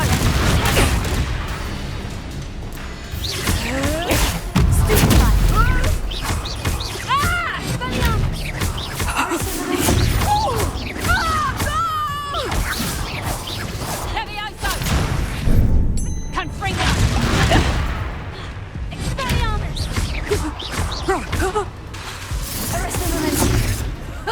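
Confringo spell blasts in the Hogwarts Legacy video game go off as several booming, crashing explosions amid combat noise, mixed with character voices speaking over the action.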